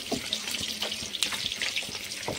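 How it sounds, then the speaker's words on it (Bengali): Water poured into a cooking pot while making a Bengali fish curry with taro and potato, a steady splashing gush that runs the whole time, close and fairly loud with no talk over it. "তো চলো এবার এতে জল দিয়ে দিই পরিমাণ মতন, সিদ্ধ হওয়ার মতন।"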